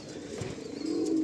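Andhra pigeon cooing softly and steadily with a low, throaty murmur, close by and with no voices.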